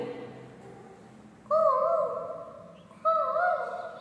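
A voice imitates a koel's call twice, rising whistled notes repeated about a second and a half apart, clear and close.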